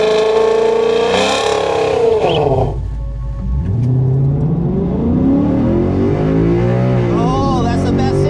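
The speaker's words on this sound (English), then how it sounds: "I'm gonna try a little bit bigger burnout because it is like 58 degrees out." A 2011 Ford Mustang GT does a big burnout on Pirelli tires, its engine roaring up hard, dipping, then revving again with loud, close, sustained tire-spinning snarl and rising engine pitch.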